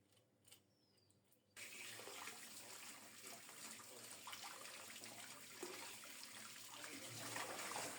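Water runs steadily from a tap over hilsa fish being rinsed clean in a kitchen, a continuous close splashing that starts abruptly after a quiet moment with faint clatter.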